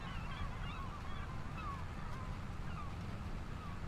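Game seagulls from a Farming Simulator 25 mod squawk in brief, scattered calls over a steady low rumble of engine and wind, the cries faint and somewhat distant.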